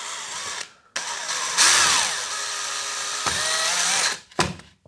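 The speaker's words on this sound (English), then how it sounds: "I'm just going to drill that out" A power drill with a masonry bit whines at high pitch for a few seconds, bites into a plasterboard wall with a grinding edge, then stops; a short clatter follows.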